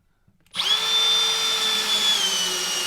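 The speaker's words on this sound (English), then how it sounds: "I'm just going to put this bracket in and show you how it goes with my 12-volt Milwaukee." A 12-volt Milwaukee cordless drill whirs up sharply driving a screw into wood, running steadily for a couple of seconds, a loud, close motor whine with a slight shift in pitch near the end.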